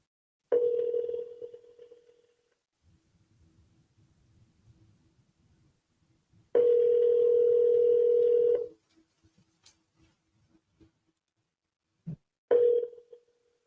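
Landline desk telephone in an office: two long steady dial-tone stretches and a brief third burst, separated by near-silence with faint background murmur, no talk.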